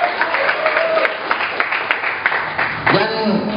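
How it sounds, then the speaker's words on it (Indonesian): A village workshop crowd claps in response to an approved community program announcement, scattered rhythmic applause mixed with voices and talking over it. "Kami mohon tepuk tangan yang sangat meriah sekali lagi."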